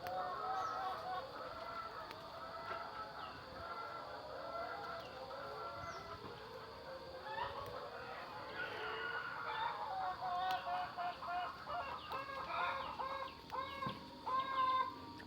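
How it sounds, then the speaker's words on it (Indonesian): A flock of chickens clucks and squawks busily in a home garden near a coop, a continuous, fairly close chorus of overlapping calls that grows livelier toward the end. "Ayam ramai banget"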